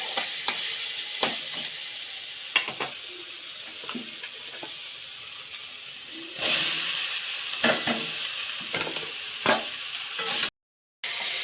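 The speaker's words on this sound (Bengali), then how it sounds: "হলুদ দেওয়ার পরে ভালো করে কষা হয়ে গেলে তার উপরে সবজি তুলে দেব।" Apple snails with turmeric sauté in a pan, giving a steady close sizzle and frying hiss broken by repeated clinks and scrapes of a stirring utensil, with a brief silent gap near the end.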